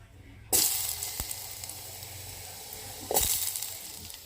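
Beetroot pieces drop into hot ghee with sudden loud bursts of sizzling, one at the start and another a few seconds later, each settling into a steady crackling fry between them.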